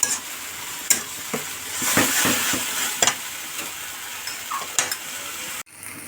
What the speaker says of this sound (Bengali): তো মাছগুলো অ্যাড করে দিয়ে আবারও শাকটির সাথে কষিয়ে নেব খুব সুন্দর করে